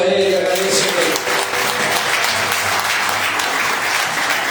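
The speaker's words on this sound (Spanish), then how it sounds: "Dale un aplauso a Él y agradecele." Loud, steady applause from a church congregation at a Sunday service fills the space, dense and continuous throughout, with some voices mixed into the crowd noise.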